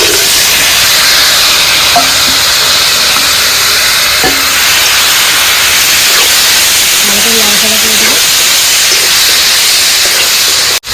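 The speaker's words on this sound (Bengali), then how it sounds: "এই যে মেখে রাখা ডালগুলি এখানে দিয়ে দেবো" Mashed lentil mixture goes into hot oil, the pan giving a loud, steady broadband sizzle and hiss for the whole stretch, with a few faint clinks of a spoon partway through.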